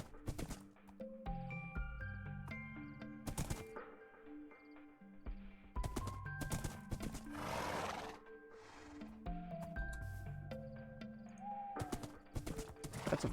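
A horse in Sunlit Valley neighing and galloping, hoofbeats and whinnies mixed with plucked musical tones and sharp bursts, moderately loud and fairly close.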